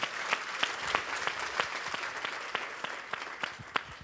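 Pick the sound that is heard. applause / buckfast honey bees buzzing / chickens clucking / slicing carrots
applause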